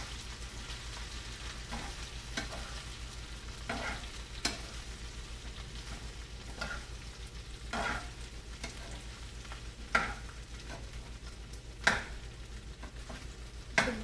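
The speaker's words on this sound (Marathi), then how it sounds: "आता आपण असं छान त्याला ढवळून घेऊ" Crispy okra stir-fried in oil with a mustard seed and cumin tempering gives a soft, steady sizzle, broken by regular spatula scrapes and taps every second or two, a few sharper clacks standing out.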